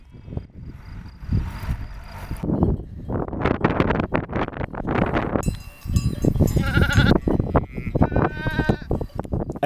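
Lambs and sheep bleat repeatedly, close and loud, during a spring highland flock migration in Erzincan, with wind buffeting the microphone throughout.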